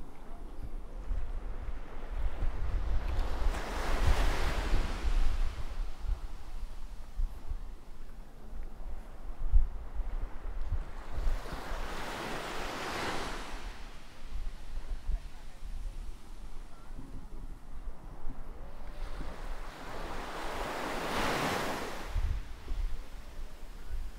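Waves washing ashore on Reduit Beach in St Lucia: three broad surges of surf build and recede at regular intervals over a steady low wind rumble.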